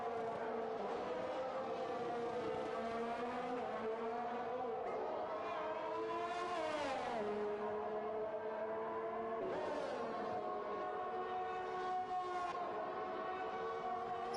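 Formula 1 cars from F1 2021 circle a Netherlands circuit, a continuous high, harmonic engine whine that rises and dips as gears shift, with several pitch swoops as cars pass, under faint commentary.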